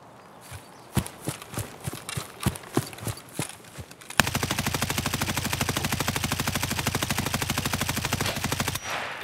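In the video game Escape from Tarkov, scattered single gunshots crack out, then a long sustained burst of rapid automatic fire rattles continuously for several seconds.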